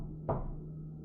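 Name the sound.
knock at the door, sound effect in animated story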